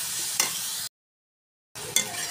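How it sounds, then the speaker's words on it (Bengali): Crab masala with cumin and black pepper is stirred in a hot pan. A continuous sizzle carries a sharp scrape partway through, then cuts out briefly before the sizzle and another scrape return. "দিয়ে একটু ভালো করে নেড়ে নেব।"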